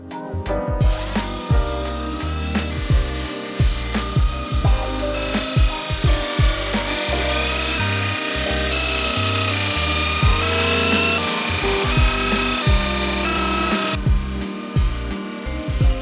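Steady, loud sanding on a wood pallet desk top, a continuous abrasive rasp broken by regular rhythmic strokes, close by and without talk.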